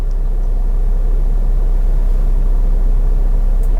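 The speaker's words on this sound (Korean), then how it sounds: "공회전 상황에서는 40dB 정도 수준의 소음이 발생하고 있습니다." A Volkswagen Tiguan diesel with four-wheel drive idles in eco mode, heard from inside the cabin as a steady, low, even hum and rumble with no talking.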